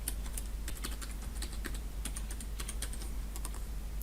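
A password typed on a computer keyboard to log in to SQL Management Studio, rapid close key clicks in uneven bursts over a constant low hum.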